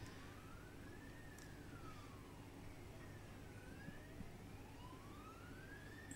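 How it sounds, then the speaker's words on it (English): A fire engine siren wails in slow rising and falling sweeps as it passes, distant and fairly faint, over low traffic rumble, heard from a bowling club in Cabramatta. "So sirens fly past."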